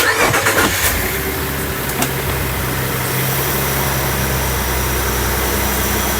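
A Ford F150 with a 3.5 EcoBoost engine starts for the first time after a cold air intake install, a short crank catching into a loud, steady close-up idle.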